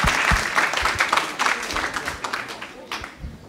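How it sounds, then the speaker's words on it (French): An audience at a nursing school brunch event in Saint-Denis applauds, a moderate burst of clapping that thins toward the end, with some speech-like sounds mixed in. "Voilà, on l'applaudit."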